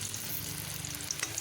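Spinach pakoras frying in hot oil give a steady, continuous sizzle with fine crackling throughout, a few sharper pops near the end, and no voices.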